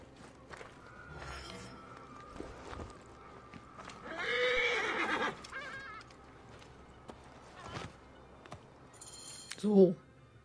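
A horse in Assassin's Creed Origins whinnies loudly in a long, wavering call, then snorts near the end, over soft background game sounds and clip-clopping hooves.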